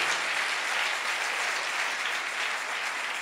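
A church congregation applauding, a dense, steady wash of many hands clapping at once, moderately loud throughout with no voices standing out.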